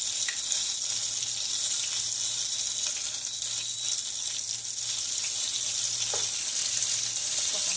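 Orange chicken frying hard in a very hot pan, giving a loud, steady broadband sizzle that holds without a break, with a few faint clinks and no talking.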